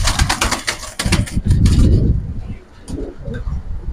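A khaki Giribaz pigeon handled up close, with bursts of sharp wing flaps early on, then rustling and soft handling noises, no talk.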